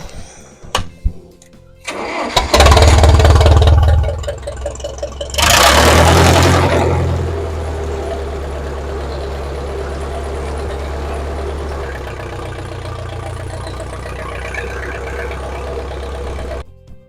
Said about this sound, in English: excuse my loud tractor.